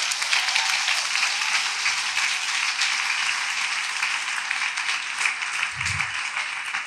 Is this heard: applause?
yes